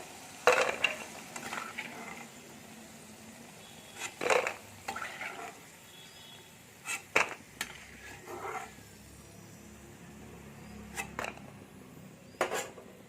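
Assamese anguli pitha frying crisp in oil in a wok, a soft continuous bubbling sizzle broken by several sharp scrapes and clinks of a ladle against the wok, close and fairly quiet.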